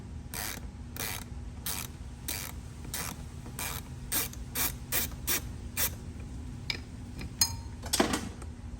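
A ratchet with a Torx bit works on mass airflow sensor screws during a cold air intake install on a Cadillac CT5-V Blackwing, a close series of about a dozen quick clicking bursts at an even pace, quickening near the end.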